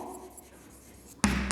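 A teacher handwriting a question for a Class 3 science exercise on living and non-living things: a soft, close scratching stroke that swells into a louder, brighter scrape near the end, no talking.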